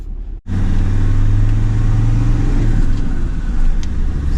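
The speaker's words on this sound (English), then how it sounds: "Step on the gas, not much happens. Takes a long time to pick up speed." An off-road Land Rover Defender engine accelerating slowly and steadily, a loud close drone that builds gradually with a constant low rumble and no talk over it.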